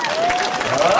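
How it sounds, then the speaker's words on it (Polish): Crowd applause at an outdoor knight tournament and falconry show, a dense steady wash of clapping heard close and loud, with a faint voice line running beneath it. "A teraz brawa!"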